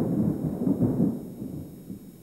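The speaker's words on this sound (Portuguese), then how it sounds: "Está trovoada." Low, rumbling thunder rolls steadily and fairly loud, fading slightly toward the end, with no voices over it.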